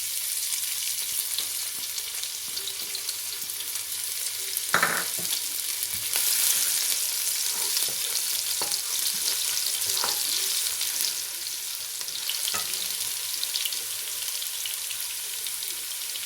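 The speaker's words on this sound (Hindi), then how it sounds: "तेल गर्म हो गया, थोड़ा सा ज़ीरा डालेंगे," Cumin seeds and garlic sizzle and crackle steadily in hot oil in a home kitchen, a continuous close frying hiss with occasional sharper pops and stirring sounds, no talking.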